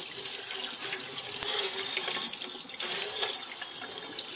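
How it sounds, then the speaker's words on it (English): Warm water runs steadily from a sink tap as a piece of glass is rinsed after etching, giving a close, continuous splashing rush with small fluctuations and no talking. "So, anyway, you rinse this off in your warm water, plenty of water."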